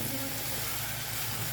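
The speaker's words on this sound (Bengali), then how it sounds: "পেঁয়াজটা ভালো করে ভেজে নেই" Onions fry in a pan for a Bangladeshi bashpata dried fish bhuna, giving a steady, dense sizzle that stays constant and close throughout the brief moment.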